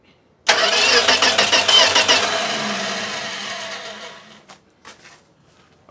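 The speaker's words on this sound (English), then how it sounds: "I'm going to turn the key and see if it cranks over." A 1965 Plymouth Valiant slant six is cranked by its starter, a rhythmic chugging that begins abruptly, pulses evenly for a few seconds without catching, then winds down and stops, close and loud.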